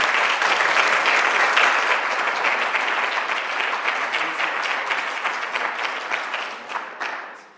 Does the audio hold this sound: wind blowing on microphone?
no